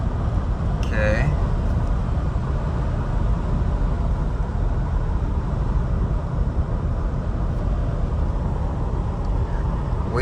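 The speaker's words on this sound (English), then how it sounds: "45 miles an hour, cruising in 4th gear, I believe" Steady broadband engine and road roar from inside a classic Mercedes cruising at 45 mph in fourth gear, a continuous even drone for the whole stretch with a brief faint tonal chirp near the start.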